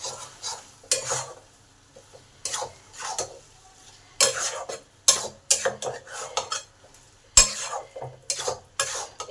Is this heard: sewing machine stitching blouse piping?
no